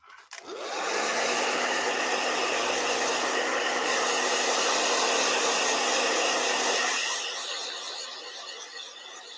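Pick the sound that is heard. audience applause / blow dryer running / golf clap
blow dryer running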